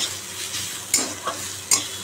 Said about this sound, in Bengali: লাল শাক ভাজা আজকে